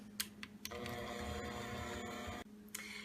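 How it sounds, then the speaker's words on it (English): An electric hand mixer whirs steadily as it beats mashed potatoes with added milk, starting after a few brief clicks and running continuously at close range before cutting off near the end, with no talk. "turn the mixer back on and mix that all up together again"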